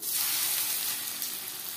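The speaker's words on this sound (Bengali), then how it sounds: "আমি শ্যালো ফ্রাই করছি" Fish shallow-frying in a few spoonfuls of refined oil over a medium flame gives a dense, even sizzle that holds steady and close for the whole short stretch, with no voices.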